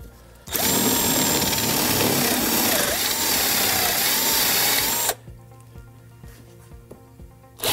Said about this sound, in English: we have to countersink the top of them